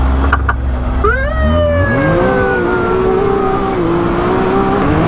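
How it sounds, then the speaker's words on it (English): Side-by-side off-road vehicles rev on a mud track, one engine climbing sharply in pitch and then holding a loud, steady drone, with more engine noise rumbling underneath. "We got 15 side-by-sides with us today."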